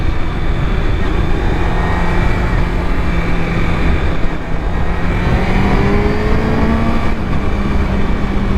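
A 2005 Triumph Daytona 650 motorcycle engine held at high revs near 12,000 RPM, a loud steady wail with rising tones, continuous and close throughout.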